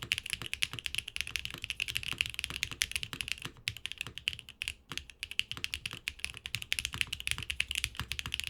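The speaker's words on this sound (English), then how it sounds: "The sandwich mount sound doesn't really change much from the O-ring mount, but does slightly increase the volume of the board" Typing on a Neo 80 TKL mechanical keyboard in a sandwich mount: a fast, continuous run of close, crisp key clacks with a few brief pauses, heard alone.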